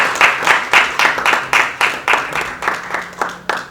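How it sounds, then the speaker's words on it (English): An audience at a law report presentation claps in a loud, steady unison rhythm, about a dozen evenly spaced beats close together, with a faint crowd murmur beneath. "Please, can we give Serap a round of applause?"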